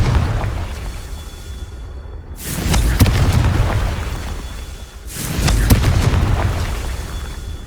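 Two heavy Confringo blasting-spell explosions from Hogwarts Legacy boom out a few seconds apart, each a loud burst that decays into a long, rumbling roar over a steady background din.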